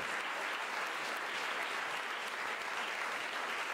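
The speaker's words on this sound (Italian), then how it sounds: "Un bel applauso," Audience applause for a singer at an Italian tribute concert, a steady dense wash of clapping from a sizable crowd, loud and continuous throughout with no talk over it.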